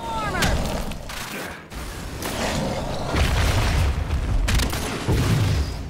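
A barrage attack ability fires in a video game monster fight, a rapid run of booming shots and mechanical bursts rolling over a busy, loud combat background, with speech mixed in.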